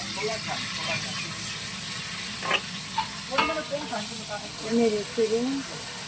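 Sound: frying ginger paste and garlic in a pan

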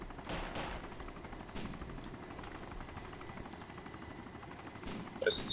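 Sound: helicopter firing guns at a base in the DayZ video game

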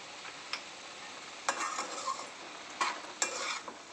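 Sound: food being stirred and sizzling in a pan

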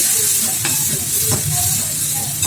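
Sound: small onions sautéing in a pan

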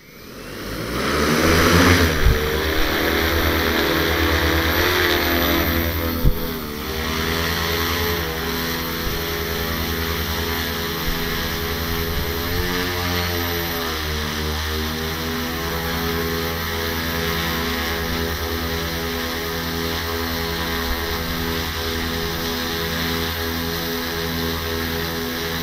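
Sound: agricultural pesticide-spraying drone flying

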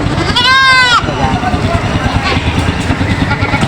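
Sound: goats bleating

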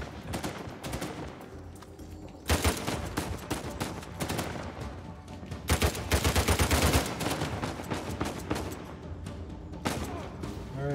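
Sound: gunfire aimed at the player, from a video game

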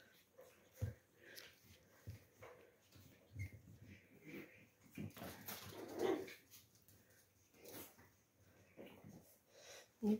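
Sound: puppy whimpering

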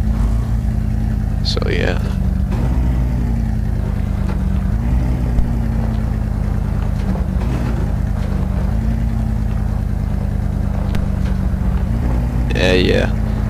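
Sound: off-road vehicle engine driving in SpinTires video game

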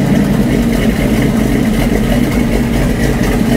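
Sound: 383 engine starting and idling in 1962 C10

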